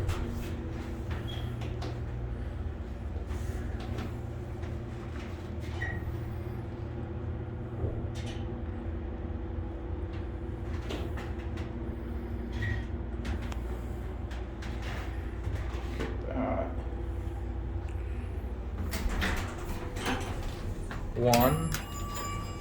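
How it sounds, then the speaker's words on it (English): A 1980s Dover scenic elevator hums steadily as it runs, with its doors sliding and a few clunks and a brief rattle near the end, while a person talks over it. "This is a beautiful elevator. It's an 80s Dover from what it looks like."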